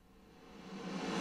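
A reversed snare drum with its long reverb tail played backwards swells from faint to loud over about a second, a breathy rising wash that builds without any sharp attack.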